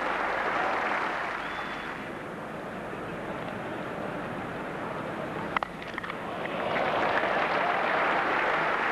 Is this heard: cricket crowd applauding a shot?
yes